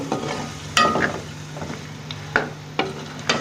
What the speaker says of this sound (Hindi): और मसाले को अच्छी से भून लेंगे हम।